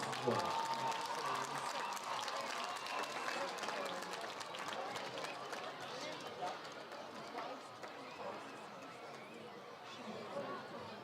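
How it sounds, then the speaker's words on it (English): A crowd at a high school football game between Oshkosh West and Kaukauna applauds in the stands. The clapping and cheering are fairly distant and sustained, with someone talking over them throughout. "let's have another huge round of applause for our varsity dance team"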